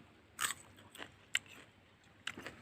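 Crisp bites and crunchy chewing of fresh jujube fruit at a midday break, several sharp crunches spaced irregularly, close and fairly quiet with no talking.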